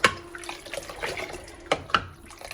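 Marinade poured from a pot over hot peppers packed in a jar, a close, uneven liquid splash and trickle lasting a couple of seconds with a few sharper drips near the end.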